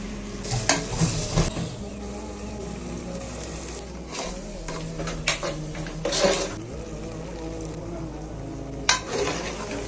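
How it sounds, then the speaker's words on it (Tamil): Beef gravy cooking in oil in a pan, steady close sizzling with repeated scraping and stirring of a utensil against the pan and occasional clinks throughout. "இன்னைக்கு ஒரு புட்டி தான் பீஃப் கிரேவி, சப்பாத்தி, கடப்பாசி பத்தியாச்சு. எண்ணெய் ஊற்றுவோம்."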